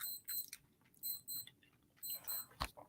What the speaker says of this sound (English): oh sorry, that was my timer.